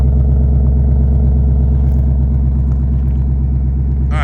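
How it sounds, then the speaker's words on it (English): A 2024 Ford Mustang fitted with an MRT H-pipe exhaust idles in its second exhaust mode, a steady deep low rumble with even pulsing that holds close and loud throughout, with a brief voice at the very end. "You can hear that deepens it up a little bit just on your idle."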